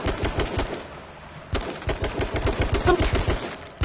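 Video game gunfire rattles in rapid automatic bursts, close and loud, with a brief lull before the shooting picks up again.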